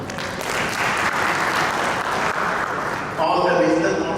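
Audience applause for past branch chairmen at a chartered accountants' branch function, dense steady clapping throughout, swelling louder near the end.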